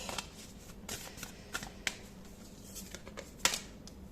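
Tarot and oracle cards are shuffled by hand, a run of soft riffling bursts and sharp card snaps at irregular intervals, close up and quiet.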